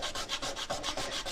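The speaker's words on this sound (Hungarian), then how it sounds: "ez egy 120-as smirgli egyébként, és ezt így elcsiszoltam." Hand sanding with 120-grit sandpaper rasps in quick, even back-and-forth strokes, about six per second, close and scratchy with no voices.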